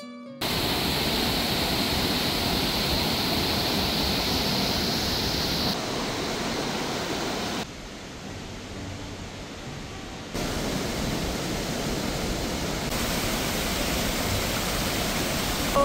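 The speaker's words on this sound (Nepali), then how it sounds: "झरना छ हैन" A constant roaring rush of a waterfall on the Langtang trek in Nepal, broad and steady, shifting in loudness at a few abrupt points, with no voices.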